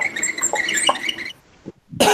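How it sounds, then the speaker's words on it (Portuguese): A single sharp cough bursts out near the end of an online music class, after a stretch of bright, busy chatter-like noise and a short lull. "É o som de tossir."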